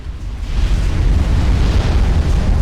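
A nuclear strike in a real-time strategy game detonates with a loud, sustained, rumbling roar, deep and continuous like a volcanic blast, with no speech over it.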